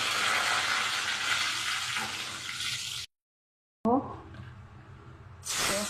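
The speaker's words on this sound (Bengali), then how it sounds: "চিতল মাছ ভাজা হয়ে গেছে, এবার আস্তে করে তুলে নেবো" Loud sizzling of chital fish frying in hot oil, broken by a brief silent gap, then quieter crackling and a splash of water at the end.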